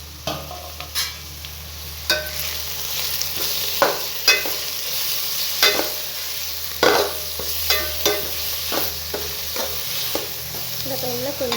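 A spatula scrapes and stirs a tomato and spinach stir-fry in a pan, with irregular knocks and scrapes against the metal over a soft, steady sizzle, close and moderately loud.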